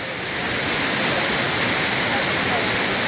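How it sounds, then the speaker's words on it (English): A steady, full rush of falling water from Battle Creek Falls in Pleasant Grove, Utah roars continuously, loud and close, with no breaks or changes throughout. "I'll give you a last parting view of that waterfall"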